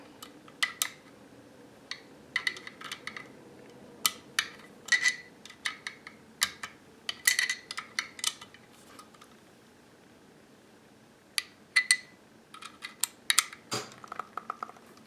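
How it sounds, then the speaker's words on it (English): An Allen wrench tightens a screw on a VZ-58 rifle's underfolder stock adapter, giving a string of sharp metallic clicks and ticks in uneven bursts, close and moderately loud over a quiet background. "I'm going to tighten it with the Allen wrench"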